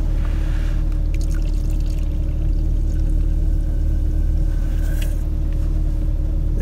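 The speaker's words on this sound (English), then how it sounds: "Let's pour us a cup." A hot drink poured into a cup from a 12V cigarette-lighter beverage heater inside a car, a steady liquid pour over a constant low engine-like hum, close and continuous without talk.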